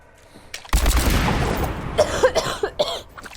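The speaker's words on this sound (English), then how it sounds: "Sorry for my coughing." A burst of harsh coughing close up, followed by a few more short coughs and throat sounds, loud and abrupt.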